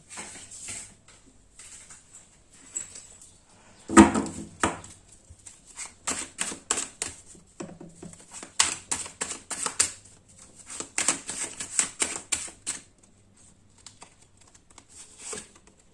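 Tarot cards gathered and shuffled after many spilled, rapid papery flicks and taps in irregular bursts with quiet gaps, close and fairly soft.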